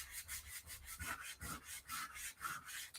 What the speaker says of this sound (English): Probably use a sanding block, might be better